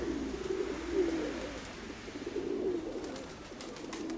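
A pigeon coos in a loft, faint low rolling calls repeating a few times at a quiet distance with no voices.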